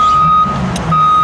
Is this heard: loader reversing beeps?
yes